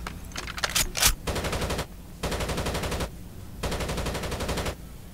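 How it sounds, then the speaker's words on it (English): Automatic gunfire in the tactical shooter Rainbow Six Vegas 2, played online in Terrorist Hunt mode: a few sharp single shots, then three long, loud bursts of rapid fire separated by short pauses. "Who's shooting?"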